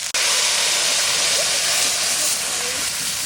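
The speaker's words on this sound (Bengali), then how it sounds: "এবার ডালটা দিই।" Lentil dal hits a hot pan of mustard oil with dried red chillies, bay leaf and ground ginger and cumin paste for a jackfruit-seed dal. After a brief gap it makes a loud, steady, close hiss that holds for several seconds.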